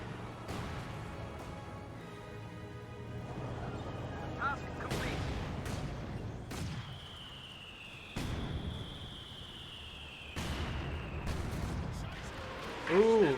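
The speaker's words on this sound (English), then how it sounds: "We do got a Zis gun hitting the 223." A ZiS anti-tank gun fires in a Company of Heroes 2 battle, several heavy booms spaced a few seconds apart over a steady battlefield bed, with a whistling projectile streak between them and a commentator talking throughout.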